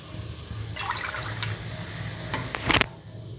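A cupful of water pours into a cooking pot for chingri pulao, a short splashing gush after a quieter stretch of trickling, close and fairly loud with no talk.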